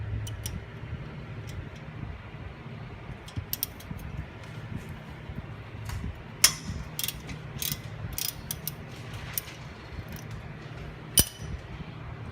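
A ratchet with a 12mm socket loosens the wheel speed sensor bolt on a Nissan 350Z, producing fast, steady clicking close by, with a few sharper clinks along the way.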